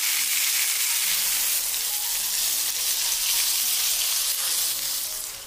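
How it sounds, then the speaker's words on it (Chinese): Tofu pan-frying in hot oil until golden on each side makes a loud, even, continuous sizzling hiss close by that fades slightly at the end, with no voices. "用我这个方法，无论是煎鱼还是煎豆腐都非常的哇塞， 煎至像这样三面金黄"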